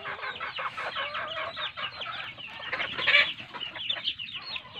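A flock of large native chickens clucks continuously, many birds close by, with busy overlapping calls and a slightly louder burst midway.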